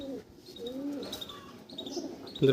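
Pigeons coo softly inside a loft, with a few low throaty calls and faint chirps, close by and quiet, ending with a brief louder sound.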